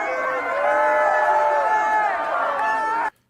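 Philadelphia Eagles fans celebrating a Super Bowl win, a dense, loud crowd roar of shouting and cheering voices that holds steady for about three seconds and then cuts off abruptly.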